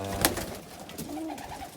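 Pigeons coo softly nearby in a pigeon loft, low throaty calls rolling over a faint indoor background, with a brief rustle or flutter at the start.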